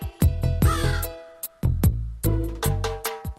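Cartoon crow cawing in an animated Gujarati children's song, a series of loud, harsh caws in uneven bursts with short gaps between them, close and clear.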